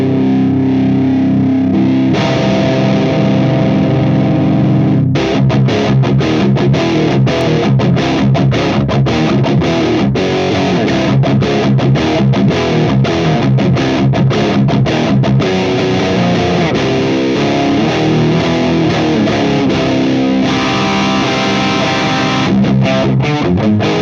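ENGL Gigmaster 15 amplifier on its clean channel with the mids boosted, played as a continuous electric guitar riff with a gritty, slightly driven edge and a steady loud level throughout.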